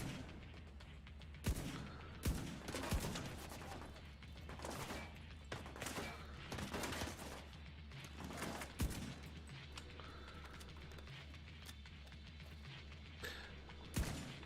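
SVT weapon gunfire in The Division video game: sharp repeated shots in irregular bursts with booming reports, fairly loud against a busy game background.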